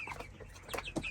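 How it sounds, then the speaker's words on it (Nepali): Local chickens cluck in short bursts on a small farm alongside week-old chicks, a few close, moderately loud calls over a soft background. "दामी लोकल कुखुरा।"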